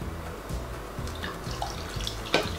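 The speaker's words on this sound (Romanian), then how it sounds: "dau cu apă peste ca să pot strecura din nou și iar amestec" Water is poured over ground hemp in a kitchen bowl during the making of Moldovan hemp julfa. It makes a soft, steady trickling and splashing that runs faintly throughout, with a slightly louder splash near the end.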